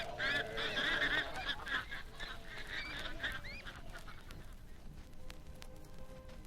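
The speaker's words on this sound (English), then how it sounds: "And the ducks?" Ducks or geese at Greenfield Village give a chorus of loud, repeated honking quacks in the first few seconds, then fade into a softer outdoor background with a few scattered calls.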